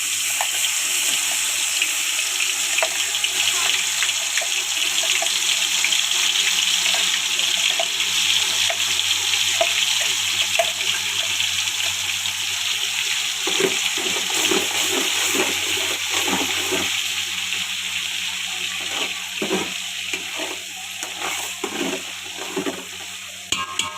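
Masala sizzling as it fries in oil and ghee with bay leaf for chicken biryani, a steady close, fairly loud hiss with faint crackles and a few stirring clinks toward the end.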